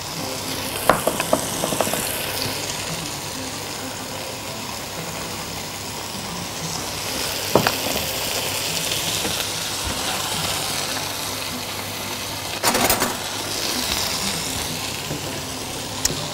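Ingredients are stirred as they fry in a pan, a steady hissing sizzle broken by a few sharp clanks and scrapes of the utensil.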